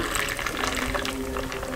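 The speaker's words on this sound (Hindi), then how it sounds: "अब आपने ये देखें थोड़ा सा अदरक का पानी ये डालें ऊपर" Ginger water is poured over a lemon shikanji drink being prepared, a steady close trickle of liquid running continuously throughout without talk.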